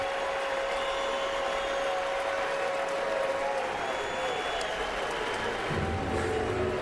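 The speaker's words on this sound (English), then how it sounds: "as you hear the crowd getting behind Parker Messick, as they should" Baseball stadium crowd roaring steadily in support of the pitcher during a no-hit bid against the Orioles, a broad sustained cheer with scattered claps throughout.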